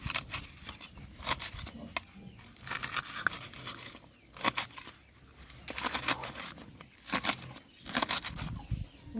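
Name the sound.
cutting up scallion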